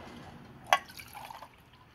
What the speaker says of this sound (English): Put us a couple cups of water in there.